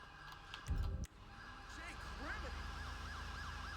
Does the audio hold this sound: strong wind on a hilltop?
no